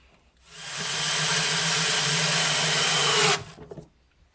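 A power drill drives screws into a chicken plucker unit during assembly, whirring steadily and loud for about three seconds before cutting off, followed by a few faint clicks of handling.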